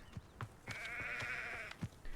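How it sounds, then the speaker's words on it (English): A goat in the Hogwarts Legacy video game lets out a single wavering bleat lasting about a second, fairly faint, amid soft game footsteps. "Chickens, goats."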